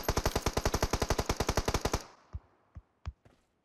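Gunfire in the mobile battle royale game PUBG Mobile: a loud, rapid automatic burst of about two dozen shots, then three or four separate single shots spaced apart.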